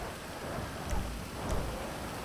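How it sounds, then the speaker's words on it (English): Steady rain hisses throughout a Grand Theft Auto V game scene, with low thunder rumbling twice beneath it, at moderate level and with no talk. "Doesn't help that it's raining."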